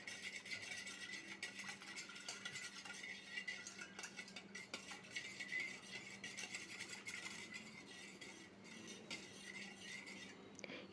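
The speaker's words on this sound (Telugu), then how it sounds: "ఇవన్నీ బాగా కలిసేలా ఒకసారి ఇలా కలుపుకోవాలి." A spoon stirs sour buttermilk with cumin, pepper and salt in a bowl, giving a steady, soft scraping and clinking that runs continuously and close, with no talk over it.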